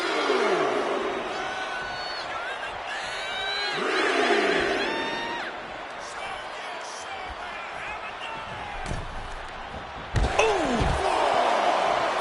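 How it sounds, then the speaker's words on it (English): In a WWE 2K26 wrestling game arena, a hostile Canadian crowd roars and jeers continuously, with swelling waves of noise and a few sharp slams. A commentator talks over it. "His Canadian biased crowd continues to let Shawn Michaels know what they think about him."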